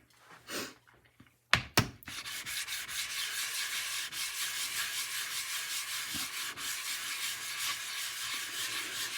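A 16K sharpening stone is being flattened, giving a steady, rhythmic gritty rubbing back and forth after a few brief knocks at the start, close and moderately loud.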